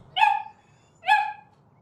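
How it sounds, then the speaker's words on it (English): A puppy gives two sharp, high yips about a second apart, close and clear over a quiet indoor background. "Sorry, it's a puppy."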